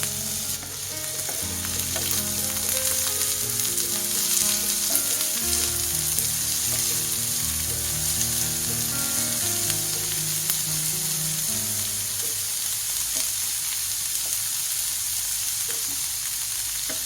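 Three medium onions fry and brown in a pan with a strong, continuous close sizzle and occasional stirring, over background music throughout.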